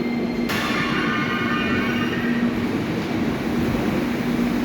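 A metro train in Sofia rumbles steadily nearby, with a constant electric hum and a hiss of air and wheels that starts just after the opening.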